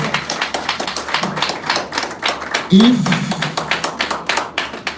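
Audience applause at a university incubation campus launch event in Lagos, many hands clapping steadily throughout at moderate loudness, with a voice speaking over it and a brief louder burst midway.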